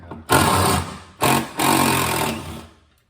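A power driver backs screws out of a folding shelf in a garage, whirring loudly in two strong bursts separated by a short pause and then winding down to silence.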